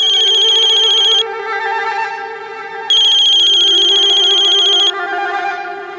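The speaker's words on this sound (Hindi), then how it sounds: "देखा, सचमुच भगवान जी का फोन आया है।" A telephone rings loudly in two long electronic bursts with a short gap between them, clear and close, with no talking over it.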